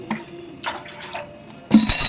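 Water being poured into a pot to boil Maggi noodles, heard as a few brief splashes followed by a louder, steadier pour at the end, close by, with no talking.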